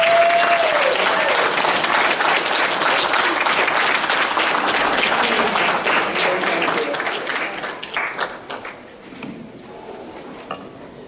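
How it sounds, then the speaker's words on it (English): Audience applause for a speaker at an Idle No More lobby day in Olympia, a full, dense roar of clapping that holds for several seconds, then thins out into scattered claps and fades. "A big round of applause."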